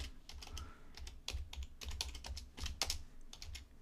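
Fingers type on a computer keyboard in quick irregular bursts of soft clicks, close but quiet, against a low steady hum with no talking.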